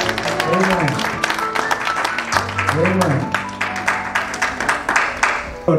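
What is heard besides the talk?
audience clapping for Jesus at church conference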